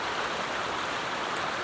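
A rain-swollen stream rushes fast at a backpacking trail water crossing in the Great Smoky Mountains on the Appalachian Trail, a dense, steady broadband roar close by with no voices.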